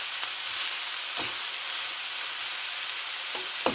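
Filling for wrappers is lightly sautéed in a pan, a steady bright sizzle running throughout with a few soft stirring scrapes, close and without speech.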